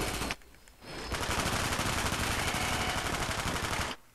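Sustained automatic gunfire rakes a zombie in Black Ops Zombies, a dense rapid-fire burst running nearly three seconds after a brief opening shot, loud and close.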